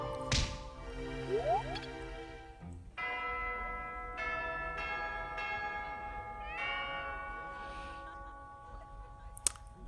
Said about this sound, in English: That bell has a different vibe to it now